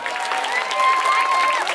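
Crowd applause at a Navratri festival, a short burst of steady clapping with a faint voice and tonal sound underneath.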